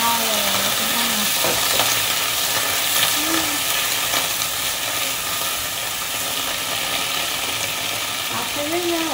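Mushrooms and greens being stir-fried in a pan with a steady, close sizzle and occasional scraping stirs, continuous throughout with no talking.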